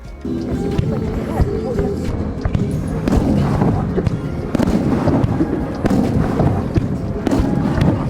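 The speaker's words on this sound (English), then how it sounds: "after which the fireworks are launched on the lake" Fireworks launched over a frozen lake town in Japan after sunset, a dense continuous rumble of booms and crackles, loud and sustained, with crowd noise and voices mixed in.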